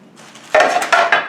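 A metallic clunk followed by scraping and clattering as the removable plates of a George Foreman Rapid Grill are slid free, loud and close, with a couple of sharp knocks.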